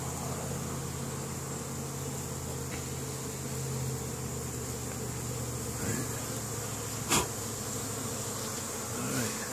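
Honey bees foraging in spring at a bee yard in Caribou, Nova Scotia, a steady close buzzing hum with occasional individual bees passing near, no talk.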